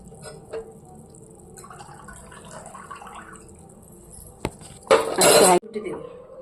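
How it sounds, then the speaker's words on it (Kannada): A pressure cooker lid being closed over rice for veg biryani, heard as a loud burst of metallic clanks and rattling near the end, after quieter kitchen clinks and handling. "ಕುಕ್ಕರ್ ಮುಚ್ಚಿಬಿಟ್ಟಿದ್ದೀವಿ"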